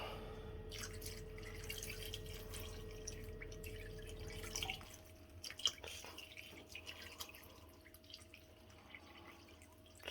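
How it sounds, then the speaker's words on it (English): Water poured over potatoes in a slow cooker, a steady splashing pour with a low hum that stops partway through, followed by scattered faint drips and small knocks. "what I do with the water is basically just pour it on"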